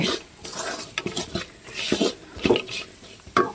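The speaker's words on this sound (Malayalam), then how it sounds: "ഇനി നമ്മളിതൊന്ന് ഇളക്കി കൊടുക്കുക" A spoon scrapes and stirs spicy masala for a meat-style curry, with garam masala, fennel, pepper and meat masala in a pan, giving irregular clinks and scrapes over a faint sizzle with no talking.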